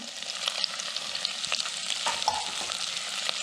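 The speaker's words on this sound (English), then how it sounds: "I'm going to add the onion, the carrot, and the celery" Onion, carrot and celery sizzle in hot oil in a medium saucepan, a constant hiss broken by several light stirring scrapes, close and without talk.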